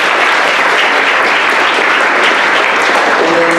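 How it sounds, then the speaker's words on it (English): Loud, dense applause from a school audience fills the space continuously, a steady wash of clapping with a few voices mixed in near the end. "Please a round of applause for Dr."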